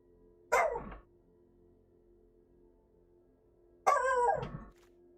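Two separate dog barks, each loud and near with a drawn-out howling tail, spaced about three seconds apart over a faint steady indoor hum.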